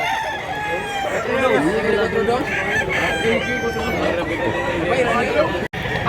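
Roosters crow again and again at a busy gamecock market in Mantalungon, Cebu, with clucking fowl and a babble of nearby voices throughout.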